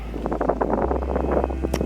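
Wind buffets the microphone with low rumbling gusts at a campsite between Grand Teton and Glacier National Park, Montana, steady and fairly loud, with no voices.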